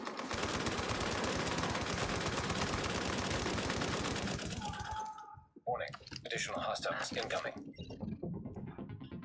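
A heavy machine gun fires in a sustained rapid stream in The Division, loud and close for about five seconds, then stops abruptly and gives way to scattered clicks, thumps and reload clatter.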